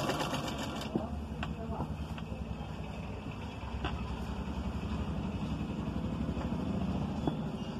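A sewing machine stitches elastic onto palazzo pants with a continuous fast mechanical whirring hum, close and steady throughout, while someone talks over it.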